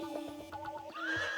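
A horse whinnies in a rural village setting, a clear, tonal neigh rising in pitch toward the end and heard close and fairly loud, with no talk over it.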